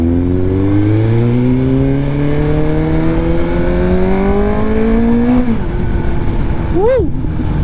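Suzuki GSX-S 750 with a long-canister exhaust revving hard: a loud, bassy engine note climbs steadily in pitch for several seconds, cuts off abruptly, then gives a quick blip up and back down, close by.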